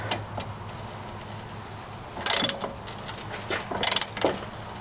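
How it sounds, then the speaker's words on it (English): An 18mm socket ratchet clicks in two short, bright bursts while removing the nut on a Porsche 986 Boxster sway bar end link, with low garage hum underneath. "Here we're using an 18mm socket to remove the nut on the sway"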